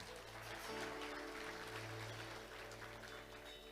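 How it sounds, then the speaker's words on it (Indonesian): Applause from a church congregation on Ascension Day, a wash of clapping over sustained music with held tones, continuous and fairly even throughout. "Tepuk tangan buat Tuhan."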